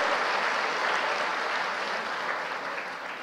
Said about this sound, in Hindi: मैं चाहूंगा कि आप सब तालियां बजाकर वेंकैया नायडू जी का अभिनंदन करें, स्वागत करें।